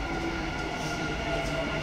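A Dubai metro train carriage in motion gives a steady, loud rumble and hum that lasts throughout, with no voices heard.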